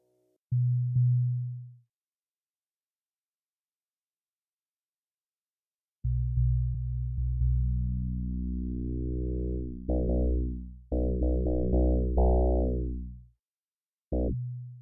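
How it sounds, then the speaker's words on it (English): Pure FM synthesizer tones from the 2RuleSynth plugin with bending, wobbling pitch, sustained notes and short bursts, separated by silence; no voices. "now I want to continue with FM modulated sound"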